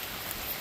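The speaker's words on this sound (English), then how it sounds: "it's raining very hard right now" Heavy rain falls steadily, a soft, even wash of hiss with faint scattered drop patters, fairly quiet and heard alone.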